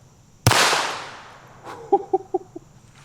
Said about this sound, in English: First up, we have the 22 long rifle, Ruger Mark IV Light.